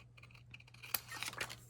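Scissors snipping through a sheet of 12-inch craft paper: a few quick, light, close cuts ending in a crisp louder snip and rustle, with no talking.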